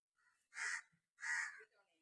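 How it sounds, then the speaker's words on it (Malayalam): Crows caw twice in a home yard, two loud, harsh, separate calls about half a second apart, close by against an otherwise quiet background. "നല്ല കാറ്റും കിളികളുടെ ശബ്ദവും അടിപൊളിയാണ്"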